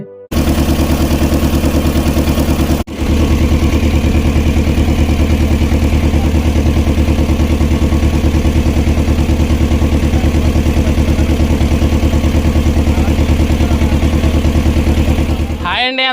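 A motorboat engine drones loud and steady for the whole stretch on the way to Ayodhya Lanka village, a close, continuous throbbing chug with one brief dropout early on and no spoken words.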